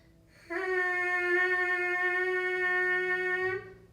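A band teacher buzzes a single steady pitch on a brass mouthpiece for about three seconds, a bright, harmonically rich tone that sounds clearly and close up with no talking.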